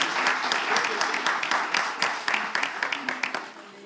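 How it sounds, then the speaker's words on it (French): Audience applause at a live event, a crowd clapping steadily and fairly near, thinning into sparser individual claps toward the end, with a voice heard faintly beneath. "Est-ce qu'on peut continuer à applaudir s'il vous plaît?"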